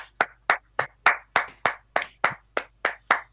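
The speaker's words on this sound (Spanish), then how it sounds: "un aplauso para todas, para todos, para Álvaro" Hands clap at a steady, even beat for speaker Álvaro at a writers' collective event, about a dozen crisp, close claps in a row with quiet gaps between them and no talking.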